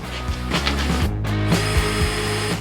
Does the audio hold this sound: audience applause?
no